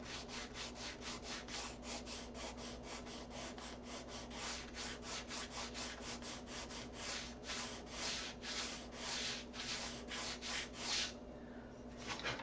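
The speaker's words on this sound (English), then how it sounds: "So we just take the sanding block." Rhythmic back-and-forth strokes of a sanding block rubbing wood, close and steady, repeating evenly for several seconds with no talking.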